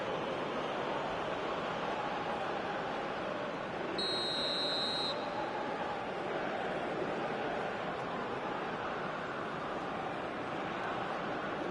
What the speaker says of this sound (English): Whistle goes again.